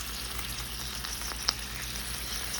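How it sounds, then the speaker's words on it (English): Frozen chicken sizzles in a frying pan for mac and cheese, a continuous close hiss of frying with faint crackles and one small sharp pop, no voices. "I'm gonna let this sizzle."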